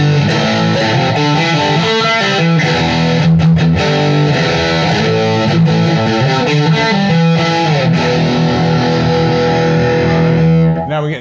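Electric guitar pushed through an amplifier's super crunch setting, a continuous loud stream of heavily distorted chords and riffs toward metal tones, played alone without talk until it cuts off at the end.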